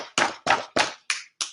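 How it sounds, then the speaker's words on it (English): Five gentle knocks sound on a bedroom door in a steady, even rhythm. They are close and crisp, with the last two slightly softer. "On heard a gentle tapping on his bedroom door."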